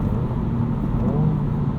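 A 2022 Honda Civic Si engine revs while driving at night, a steady low engine drone and road rumble heard from inside the car, rising slightly in pitch with no talking.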